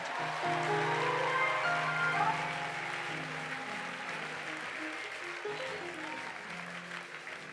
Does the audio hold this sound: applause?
yes